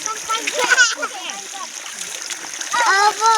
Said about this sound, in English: Yeah. Look, Sophie is playing the water.